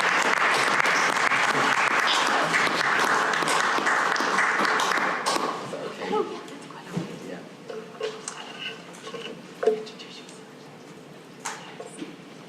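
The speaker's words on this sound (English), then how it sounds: "Can we give you a big round of applause?" An audience at a short story prize reading claps warmly for about five seconds, then the applause dies away into scattered claps as a person starts talking.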